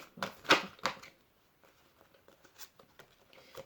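A few quick papery flicks and slides as a card is pulled from a deck of cards, close and soft, with a cluster of crisp snaps at the start followed by faint scattered rustles.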